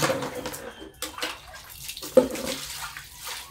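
Water splashes and sloshes in a basin as clothes are rinsed by hand, in irregular close-up bursts with brief drips between them.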